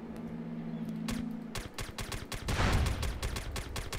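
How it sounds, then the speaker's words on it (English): Bursts of gunfire from the SOCOM 2 online match on the Fish Hook and Crossroads maps, a rapid string of sharp shots that swells into a dense volley partway through, with no voices over it. "someone's shooting at you from the mountain or something"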